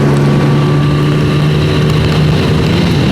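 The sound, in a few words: motorcycle accelerating through gears of its 5-speed gearbox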